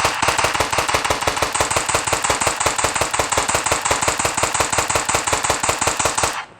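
Rapid automatic fire from an old gun in an Indian car and bike driving video game, a loud, evenly spaced burst of dozens of shots lasting several seconds before stopping abruptly.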